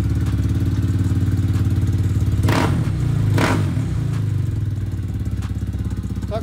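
A new motorcycle engine idling after its first start, a close, loud, even pulsing chug with a couple of sharp clattering bursts midway, running steadily throughout.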